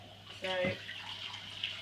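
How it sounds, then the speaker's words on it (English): Tap water runs steadily as soaked buckwheat groats are rinsed, a soft continuous splash under a faint, brief spoken word. "So I like to give them a little rinse just because they've been sitting in the water all night"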